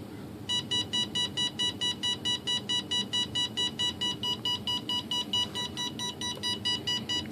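An electronic speed controller in a Hobbyking Sunbird 1.6 m glider emits a steady run of evenly spaced, identical electronic beeps after power-up, repeating about three times a second over a low background hum, with no talking.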